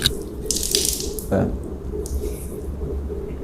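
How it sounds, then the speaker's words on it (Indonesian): Water poured over the face during ablution, a close splash and trickle with a few sharp wet bursts above a steady running-water hiss. "Ini ghasala itu ambil airnya, tumpahkan di wajah begini."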